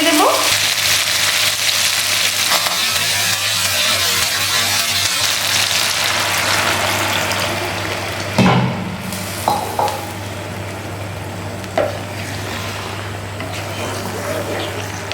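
Chicken sizzling loudly in oil in a pan, a dense steady frying hiss that eases and changes as broth is poured in, followed by a few spoon knocks and a voice speaking briefly.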